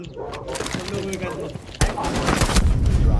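Gunfire in the tactical shooter Rainbow Six Siege, sharp broadband cracks scattered over the clip, with a heavier burst near the end, mixed with game noise and someone speaking Thai.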